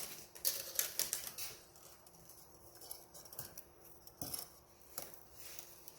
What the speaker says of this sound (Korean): 공예철사는 그냥 가위로도 절단이 가능할 거예요